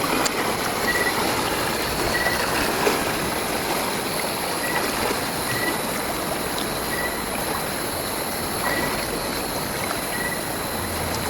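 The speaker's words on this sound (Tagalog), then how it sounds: "nandito na tayo sa sapa ng ilog" A river stream flows steadily with a broad, constant rushing wash of water, a few faint chirps above it and no talking.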